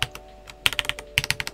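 Typing on a stock Royal Kludge H81 gasket-mount mechanical keyboard: quick, sharp keystrokes in two uneven bursts, close and clear with brief pauses between, no talking.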